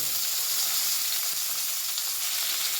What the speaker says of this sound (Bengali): চিংড়ি মাছ ভাজা তেলের মধ্যেই আমি দিয়ে দিলাম রসুন দিয়ে দিচ্ছি শুকনো লঙ্কা পেঁয়াজ টমেটো